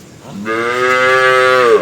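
A one-month-old calf moos once in a long, loud, drawn-out call that holds steady for over a second before breaking off, close to the listener with no talk.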